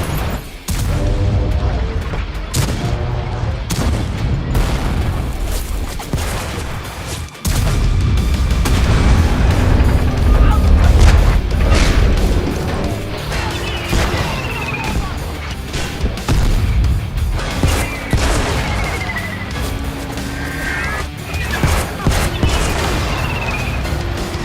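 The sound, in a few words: tank cannon rounds echoing and hitting tanks, World of Tanks Blitz video game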